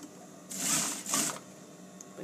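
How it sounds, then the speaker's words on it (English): An industrial sewing machine stitches fabric for a dress in two quick whirring bursts, the second shorter, close by, then quiet. "I'm on my industrial machine"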